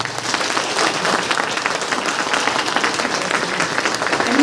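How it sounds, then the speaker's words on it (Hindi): A crowd applauds loudly and continuously, dense clapping with no voices standing out, holding steady throughout. "एक जोरदार ताली होनी चाहिए।"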